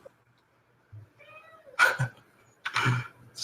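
A pet cat meows close by, two drawn-out meows after a faint earlier mew, over a quiet room with a low hum.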